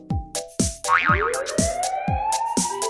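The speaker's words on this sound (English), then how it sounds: "It's a siren, that's what it is." A cartoonish siren wails and rises over a bouncy, springy musical beat, part of a playful children's song.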